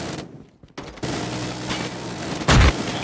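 Gunfire and an explosion as an enemy sentry gun is destroyed in Call of Duty Mobile, with steady battle noise, scattered shots and a loud booming burst near the end.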